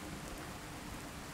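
Steady, dense video game rainfall hisses throughout, with a low rumble of thunder underneath; no voices.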